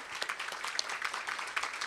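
Applause from an audience for a national laboratory and Battelle at a congressional update event, steady crowd clapping sustained throughout without a break.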